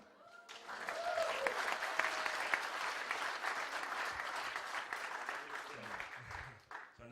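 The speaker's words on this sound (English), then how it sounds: "So now you're clapping, right?" Audience applause at a Cannes Lions master class, a dense burst of clapping that rises quickly, holds steady for several seconds and then starts to fade, with faint voices underneath.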